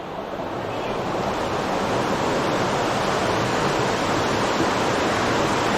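Steady rush of spring water pouring and flowing continuously, close and fairly loud, a broad even wash with no breaks and no talk over it.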